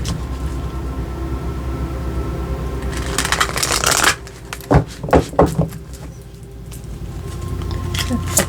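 Tarot cards being shuffled: a steady riffling rush for a few seconds, then several sharp bursts of cards snapping together, over a faint background hum.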